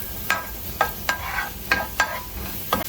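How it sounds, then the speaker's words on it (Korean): Garlic tossed into hot store-bought chili oil sizzles under a steady fry hiss, with spatula scrapes landing roughly every half second, close and moderately loud. "기름에 마늘 투하."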